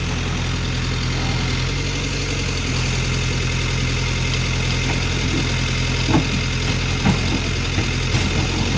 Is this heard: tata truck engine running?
yes